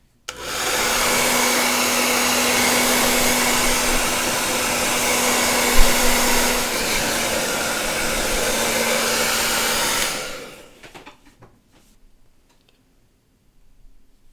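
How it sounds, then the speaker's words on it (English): A blow dryer runs with a loud, constant whooshing roar for about ten seconds, then shuts off, leaving a few soft clicks. "using a blow dryer to help speed up the drying process"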